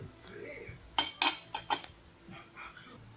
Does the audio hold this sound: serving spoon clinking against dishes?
yes